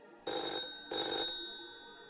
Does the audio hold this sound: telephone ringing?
yes